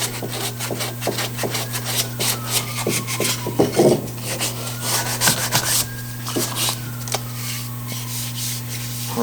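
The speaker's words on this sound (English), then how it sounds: "All of my edges are going to get a little 220 touch real quick" 220-grit sandpaper rubbed back and forth along wooden edges, a steady close rasping scrape with rhythmic strokes over a constant low electrical hum, no voices.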